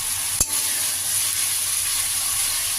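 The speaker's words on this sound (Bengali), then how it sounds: "এখন আমি এর মধ্যে সামান্য পরিমাণে জল দিয়ে মশলাটাকে ভালো করে কষিয়ে নেব" Spice paste cooking with a splash of water for a jackfruit and prawn curry makes a loud, even hissing sizzle, with one sharp utensil clack near the start.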